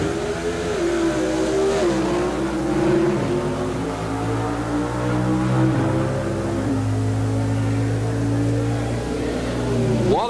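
AMC Hornet X and AMC Special drag cars at the 1976 NHRA World Finals in Ontario, California, engines roaring loudly and continuously with rising and falling revs as they race down the strip.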